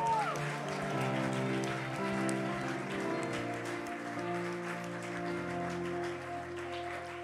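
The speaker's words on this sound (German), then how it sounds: "Ich kann mir an Paul einen Applaus geben für die Message." Steady applause from a crowd, a dense patter of clapping that carries on over loud music playing throughout.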